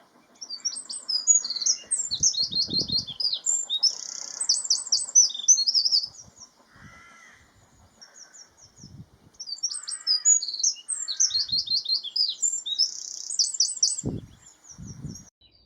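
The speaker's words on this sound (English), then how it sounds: "the rapid, machine gun-like blast of the wren," A wren's loud, rapid, machine-gun-like trilling song bursts out in two long fast phrases in spring, with a few other birds calling faintly in the gaps.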